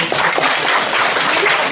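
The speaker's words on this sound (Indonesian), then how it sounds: "tepuk tangan untuk Yawan dulu" A crowd at a Christmas sermon bursts into loud, dense applause that holds steady and close for its whole short length, with a faint voice underneath.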